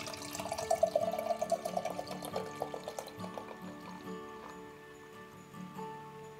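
Barrel-aged imperial stout from a full can glugs and splashes into a glass, with a strong burst at first that tapers into a soft trickle, heard close and without speech.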